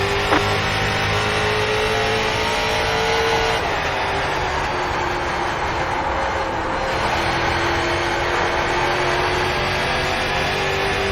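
Street stock race car engines in the iRacing sim hold a steady, loud drone throughout, with a sustained engine tone that shifts pitch slightly partway through as the cars run on track.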